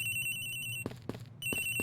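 A telephone rings in the Ace Attorney Investigations: Miles Edgeworth video game, a steady electronic trill of repeated bursts at moderate volume with short gaps between rings.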